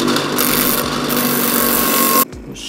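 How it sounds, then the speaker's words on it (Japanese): Power tool grinding down a rivet nut to shorten it, a loud steady harsh grinding that runs for about two seconds and then cuts off abruptly, leaving quieter background. "このナッターをね短く削っちゃいましょう"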